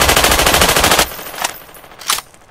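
Rapid automatic gunfire in Garry's Mod rattles loud and close for about a second, then stops, followed by two separate louder single shots.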